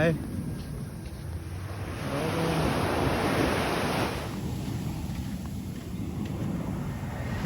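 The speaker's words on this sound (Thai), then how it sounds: "นี่เป็นเครื่องบินของ แอร์เอเชีย ใช่ไหมครับ" AirAsia airliner flying low over Mai Khao Beach in Phuket, a broad roar swelling and then fading over the wash of surf and wind.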